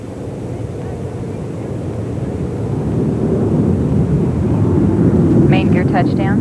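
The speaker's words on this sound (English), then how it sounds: "They are landing on the concrete runway at Edwards Air Force Base" Space Shuttle Endeavour coming in to land on the concrete runway at Edwards Air Force Base, a steady broadband roar that swells gradually louder, with faint chirps near the end and an announcer's voice talking over it.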